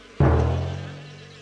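A cartoon bee swarm buzzes in suddenly with a loud onset, then the steady low drone holds and slowly fades, with no voices over it.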